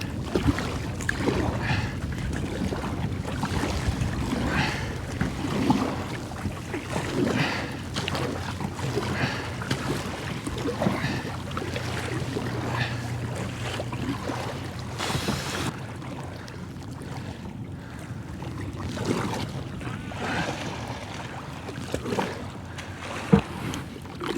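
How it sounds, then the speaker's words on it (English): Strong wind buffets a kayak out on open water in the Arthur Kill, a steady roaring rumble with water sloshing against the hull throughout, loud and close to the microphone. "We've got a lot of wind."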